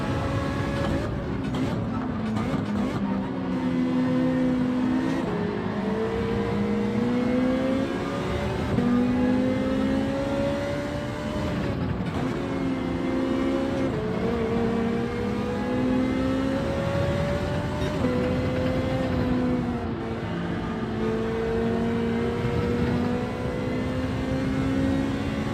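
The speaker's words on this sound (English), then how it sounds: "Wouldn't expect the Sylvia to accelerate so fast in a second." A Nissan Silvia race car in Gran Turismo 7 at Laguna Seca, its engine loud and steady as it accelerates, pitch climbing then dropping at each gear change, repeated several times over a long sustained run.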